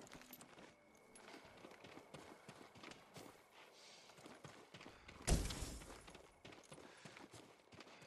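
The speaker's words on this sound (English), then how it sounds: "A farm horse. Never seen battle." Farm horse in Ghost of Tsushima, hooves clip-clopping in a quiet, irregular rhythm, with a sudden loud burst midway before the soft plodding resumes.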